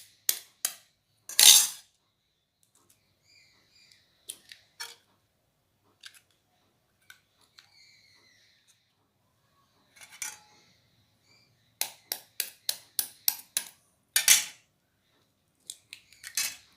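Eggs for a Bengali egg recipe cracked into a bowl: sharp shell taps and cracks come in short bursts, with quiet gaps and faint drips between, close and clear with no talk.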